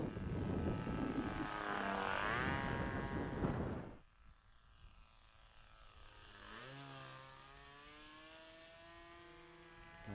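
A model airplane engine holds a loud, steady harmonic whine for about four seconds, then drops sharply to a fainter, varying drone as the plane flies farther off. The engine keeps running rather than cutting out.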